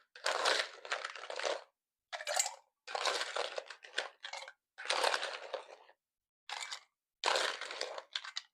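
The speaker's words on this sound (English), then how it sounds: "And then you're going to put ice inside of this guy." Ice cubes clatter and crunch into a Moscow mule mug in several short bursts with brief pauses between them, heard close up and alone.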